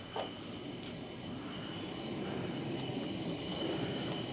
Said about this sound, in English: You hear a train coming around the tight bends.